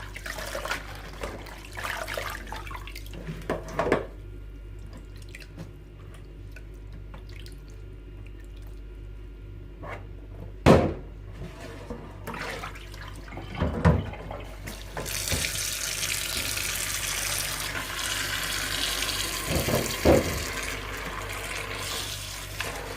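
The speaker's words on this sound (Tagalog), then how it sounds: "Hugasan ko po muna bago siya hiwain." Arugula leaves washed under a running kitchen tap: a steady stream of water into a sink with splashing and handling noises, growing louder and brighter toward the end, with no talk.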